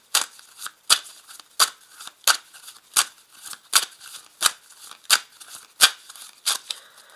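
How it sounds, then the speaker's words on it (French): Tarot cards are laid down one after another, each giving a crisp snapping slap in a fairly regular rhythm of about a dozen sharp hits, close and clear with no talking. "Alors, je vais quand même rajouter des cartes"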